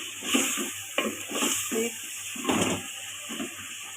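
A chicken biryani mixture fries and is stirred in a pot, with close scraping strokes and a soft sizzle in short, irregular bursts.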